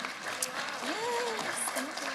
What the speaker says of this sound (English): Please give a big round of applause for our panel.